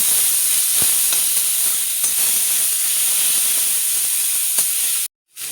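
Grated potato sizzles in hot oil with a loud, steady, hissing fry that runs continuously until it cuts off abruptly near the end.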